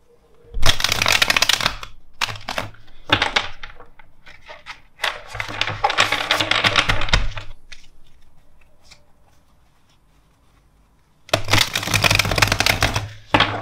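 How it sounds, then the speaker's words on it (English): Tarot cards shuffled by hand in three separate bursts of rapid crisp riffling, close and fairly loud, with quiet gaps between them and no talking. "Let's do three shuffles."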